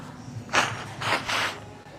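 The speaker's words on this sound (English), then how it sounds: "Sorry, I'm gonna blow my nose." Someone blows their nose up close, with three short, forceful bursts of breath a fraction of a second apart against a quiet room.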